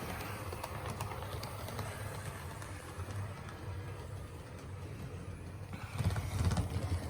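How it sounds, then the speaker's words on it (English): An F unit and a GP38 diesel locomotive race at full throttle on a figure-8 track, producing a loud, continuous engine roar and rumble that swells toward the end. "These locomotives are throttles wide open."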